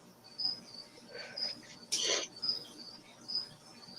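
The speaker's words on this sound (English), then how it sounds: "I hear Eric's crickets." Crickets chirp in steady repeated trills at a moderate distance, with a brief louder burst of insect or bird sound partway through, no talking.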